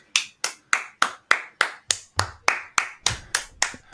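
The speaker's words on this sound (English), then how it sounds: "We gotta get us a clap machine, Mitch." Claps from a clap machine ring out in a steady, evenly spaced series of about fourteen sharp, loud hand-clap sounds, each with a short decaying tail and nobody talking.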